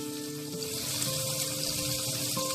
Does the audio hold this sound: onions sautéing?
yes